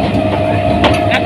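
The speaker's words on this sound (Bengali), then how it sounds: "এখান থেকে এখন ট্রেন ছেড়ে দিচ্ছে" A Haldia Fast EMU local train pulls out of a station with a steady loud rumble, a thin electric whine and a couple of short clanks from the carriage.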